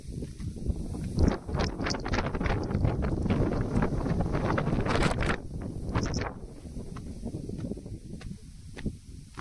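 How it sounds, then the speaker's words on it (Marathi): Cold wind gusts across the hilltop of Torna fort, buffeting the microphone in loud, uneven rushes that rise and fall throughout, with no one talking. "वारं इथे एकदम थंड वारं यायला लागले."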